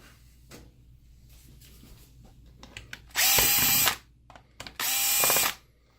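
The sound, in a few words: opening the plastic housing of a motorized vertical blind controller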